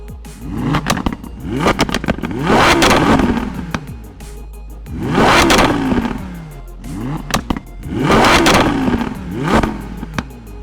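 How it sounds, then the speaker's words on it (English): A powerful 2012 supercar engine roars up in repeated revs, three big surges with crackling pops and bangs from the exhaust between them, loud and close. "Let's listen to that roaring engine."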